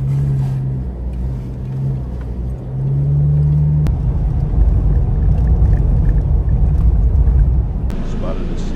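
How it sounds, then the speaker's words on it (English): A vehicle drives through ocean surf at Sandwich Harbor near Walvis Bay, Namibia, as the tide comes in: a loud steady engine rumble with water rushing and wind, and a voice over the top. "we headed back north, driving through the surf as the tide is coming in"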